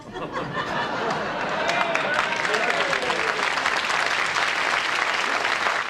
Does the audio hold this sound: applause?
yes